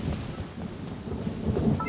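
Rain and thunder in Sumeru in Genshin Impact, a low rolling rumble of thunder over a steady hiss of rainfall, continuous and moderately loud for a couple of seconds.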